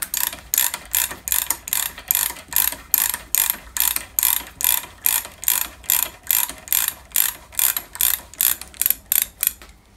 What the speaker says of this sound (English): So I've just put the ball screw back in again.